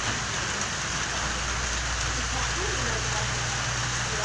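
Steady, dense rain pouring down nearby, a continuous hiss with no pauses and no voices.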